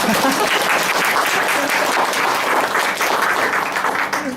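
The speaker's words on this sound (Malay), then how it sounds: "Tepuk tangan, tepuk tangan" An audience at a health seminar applauds, a loud, dense, continuous burst of many hands clapping close by, holding steady throughout.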